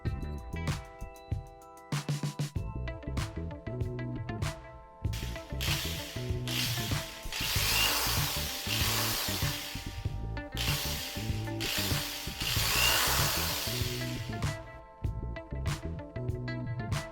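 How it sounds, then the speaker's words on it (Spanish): A power drill twisting wire for miniature barbed wire whirs in repeated spinning runs with mechanical rattling and ratcheting, loud and close, with a few short pauses. "Puse el otro extremo en un taladro y en unos cuantos segundos obtuve mi alambre"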